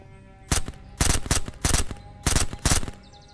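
The Radian gun in the SurrounDead video game fires five loud, close bursts of rapid automatic shots, separated by short pauses, over a faint steady hum.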